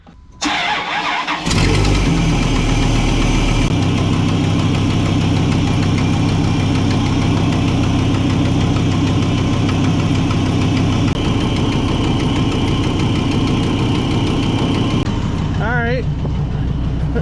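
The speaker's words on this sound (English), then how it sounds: "let's fire this thing up and see what happens." A 2001 Dodge Ram 250 with an 8.0L V-10 Magnum engine cranks briefly, fires and settles into a loud, steady, rumbling idle close to the microphone, then a short whine rises near the end.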